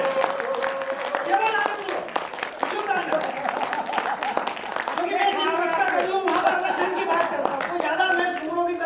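At a Hindi poetry gathering, an audience claps in a busy, crackling patter that runs steadily throughout, mixed with someone speaking loudly over it.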